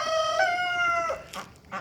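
Homestead hens clucking close by after a rooster's drawn-out crow, the crow held for about a second, then a couple of short clucks.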